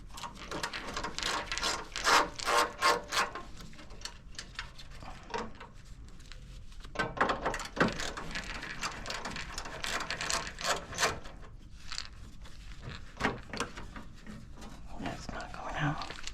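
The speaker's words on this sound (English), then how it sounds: "there's 4 screws on each side of this bezel that you want to take out." Ratchet clicking in quick bursts while removing screws from a 4th-gen Pontiac Firebird headlight bezel, close and fairly quiet, with pauses and soft handling noises between runs.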